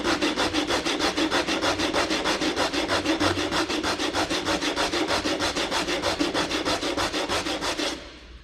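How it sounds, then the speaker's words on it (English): A wooden edge rubbed back and forth on sandpaper laid flat on a table: steady, rhythmic scratchy strokes, loud and close, about twenty quick passes that then stop. "put a piece of sandpaper flat on the table"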